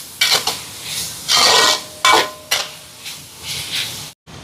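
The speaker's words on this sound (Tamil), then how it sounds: "கலந்துடுவோம்." Prawn noodles being stirred and tossed in a pan, with a run of close, brisk scraping strokes that are separated by short pauses and sit over a faint sizzle.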